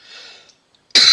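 A person who has been taking cough drops lets out a single sharp, loud cough up close after a near-silent pause, with only faint background hiss before it.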